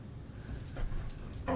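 A dog whimpers and lets out a few short yips or whines indoors, fairly close, with faint room noise and no talk over it.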